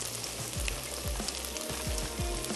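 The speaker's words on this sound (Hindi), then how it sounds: "और अब हम इसमें शामिल कर देते हैं शलजम को थोड़ा सा फ्राई करेंगे" Turnips fry in a pan with a continuous, close sizzle and soft low thumps recurring at a steady rhythm underneath. No voices are heard.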